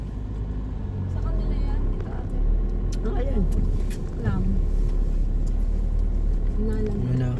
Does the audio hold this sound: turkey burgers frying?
no